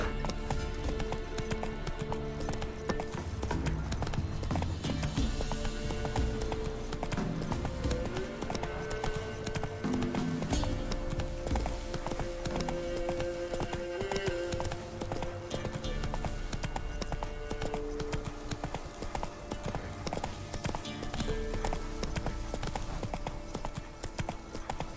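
Rhythmic clip-clop of a horse's hooves galloping steadily through The Witcher 3: Wild Hunt, loud and continuous over ambient game sound, with a brief snort or whinny.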